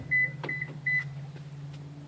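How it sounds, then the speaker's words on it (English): A Toyota Prius chimes with a short series of clear electronic beeps, about three quick tones in an uneven rhythm, as the passenger door is opened. The beeps sound close against a steady low hum, with no talking. "Is that beeping from opening the passenger door?"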